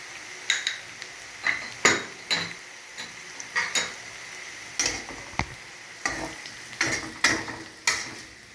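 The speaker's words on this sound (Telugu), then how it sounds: "ఇప్పుడు దీన్ని కూడా ఇందులో మగ్గించుకోవాలి." Bitter gourd fry cooking in a pan with ginger-garlic paste, chilli powder, coconut powder and jaggery, stirred in repeated scraping strokes with light clinks and a soft sizzle, about a dozen steady strokes close up.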